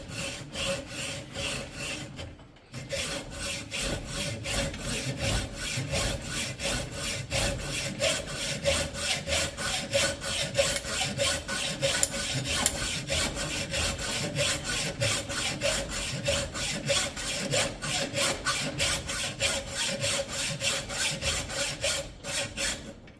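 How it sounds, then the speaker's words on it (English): A hacksaw cuts through a bolt being trimmed for an axle, with steady back-and-forth rasping strokes in a fast, even rhythm, close and moderately loud, pausing briefly near the start before continuing. "So let's get moving here with a hacksaw."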